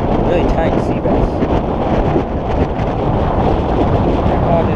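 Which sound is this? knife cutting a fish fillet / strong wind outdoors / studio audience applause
strong wind outdoors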